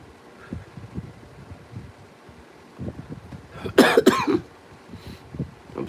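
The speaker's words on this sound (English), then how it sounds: "I'm sorry about the cough." A single person coughing from a bout of bad flu, a short loud cluster of two or three harsh coughs near the microphone, preceded by quiet rustling.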